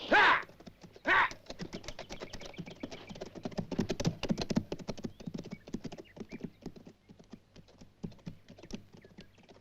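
Horses move off in a 1971 western, hooves clip-clopping in a rapid, uneven patter that swells and fades, opening with two loud shouts or whinnies close by.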